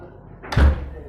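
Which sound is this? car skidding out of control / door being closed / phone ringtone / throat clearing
door being closed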